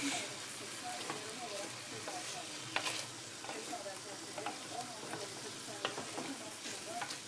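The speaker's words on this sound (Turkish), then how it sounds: "Biraz da böyle kavuruyoruz." Vegetables and meat for güveç sauté in a hot pan, a dense continuous sizzle close up with light scraping stirs and occasional clicks of a spoon against the pan throughout.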